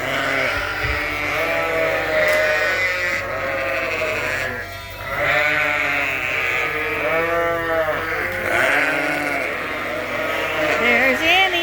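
Sheep on a farm bleating repeatedly, several close, loud, wavering baas overlapping one another with farm background noise and occasional talk.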